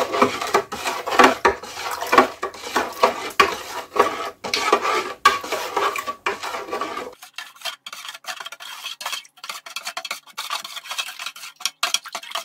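A spoon scrapes and clinks steadily against a container while stirring a mixture to dissolve it in cold water, a close rhythmic rubbing that grows thinner and lighter partway through.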